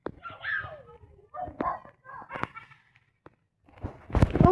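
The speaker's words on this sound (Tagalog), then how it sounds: "Kaya pala tumatahol." A dog barks several times in short, sharp bursts at fairly close range, alongside thumps and people talking, with a louder cluster of barks near the end.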